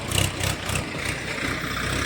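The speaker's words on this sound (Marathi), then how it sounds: "ही जीप जी तुम्ही बघताय, आपण या जीपने पुढच्या प्रवासाला लागणार आहोत." A jeep engine idles nearby with a steady, fairly loud low rumble that pulses slightly at first, with no talking over it.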